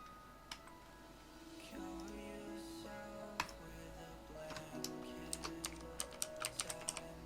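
Folder name being typed on a computer keyboard, a quiet run of close key clicks in uneven bursts that grows quicker toward the end over low background hum.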